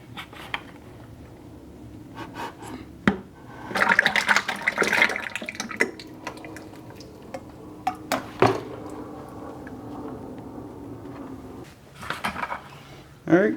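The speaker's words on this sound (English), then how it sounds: "I'm just gonna try and dump the bucket over without it spilling everywhere" Reclaimed clay slip is poured out of a bucket in bursts of sloshing, splashing liquid with scattered knocks and scrapes of the bucket, loudest in the middle and fading to a low trickle.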